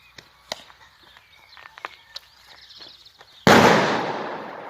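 Firecrackers set off outdoors in experiments: a few sharp small pops and crackles, then one loud close blast that leaves a long roaring, hissing burst.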